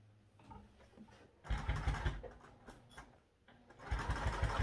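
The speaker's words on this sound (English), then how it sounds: "So I'll sew this side on, also at 3/8 inch seam allowance." A sewing machine runs a backpack seam at a small stitch length, starting in bursts of close whirring stitching with a brief pause between runs.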